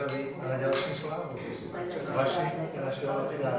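Glasses clinking in a toast at an art exhibition opening, a couple of bright chimes rising over a crowd of people talking and murmuring throughout.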